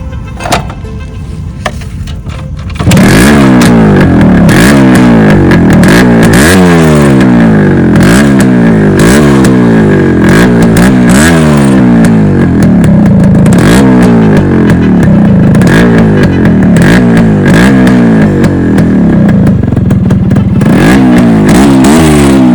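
Yamaha RX135 two-stroke motorcycle, a 5-speed model making 14 bhp, starting up and then revving repeatedly in rising and falling sweeps, close and very loud with a buzzy, rattling exhaust note and no talking.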